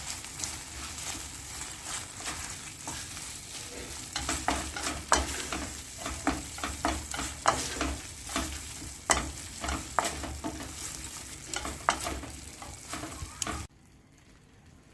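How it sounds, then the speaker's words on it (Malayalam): A spoon stirs a sweet obbattu filling with ghee in a pan as it dries, giving repeated scraping and light sizzling strokes in a steady, close rhythm that stops abruptly near the end. "ഇതില് വെള്ളമെല്ലാം വറ്റി ഏകദേശം ഡ്രൈ ആയി വരുമ്പം ഇതിലേക്ക് 2 ടീസ്പൂൺ നെയ്യ് ചേർത്ത് ഇളക്കി കൊടുക്കാം"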